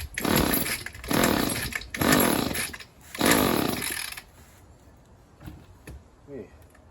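A vintage 1970s–early 1980s Echo SRM-140DA grass trimmer engine is pulled and catches in four loud, close bursts of snarling two-stroke revving before dying down. A brief voice follows near the end.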